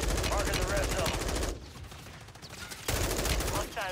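M4 rifle fire in Warzone 3 rattles out in rapid automatic bursts, loud and dense, with a brief lull in the middle before shooting resumes.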